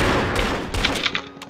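Several sharp, rapid gunshots crackle in quick succession over a dense, noisy soundscape in the video game CrossFire, fairly loud and close.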